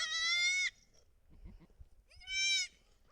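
Two loud, close goat bleats, each lasting under a second and separated by a quiet gap with faint rustling and shuffling.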